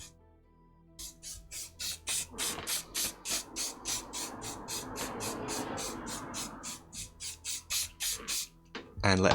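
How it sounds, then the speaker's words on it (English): Hairspray misted lightly over a model thatched roof: a rapid series of about twenty short, close hissing spray bursts in a steady rhythm. "just come in with some hairspray and lightly spray it"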